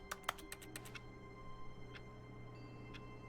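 Keyboard clicks from the video game The Stanley Parable: Ultra Deluxe, a quick run of about eight taps followed by two isolated keystrokes, crisp and close over a steady low hum.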